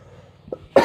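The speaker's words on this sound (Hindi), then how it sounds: "सॉरी अबाउट दैट, थोड़ा खांसी है," A single sharp cough from a person with a throat infection bursts out near the end after a quiet stretch, preceded by a faint throaty catch.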